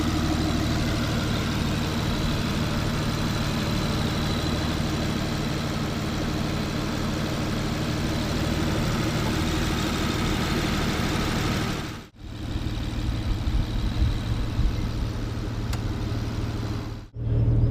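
The 5.9-litre V12 of an Aston Martin Vanquish Volante idles with its carbon fibre bonnet open, a steady, close, low rumble that briefly cuts out twice near the end.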